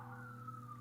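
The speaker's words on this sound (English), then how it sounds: "Oops, sorry about the sirens there." Emergency vehicle siren wailing outdoors in a steady, slowly falling tone, fairly faint and distant, heard alone without talk.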